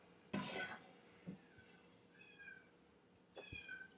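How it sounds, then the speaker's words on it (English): A cat named Oliver meows indoors in short, rising calls, one near-cough burst at the start followed by several faint meows spaced across the moment, no speech over them. "he's meowing right now"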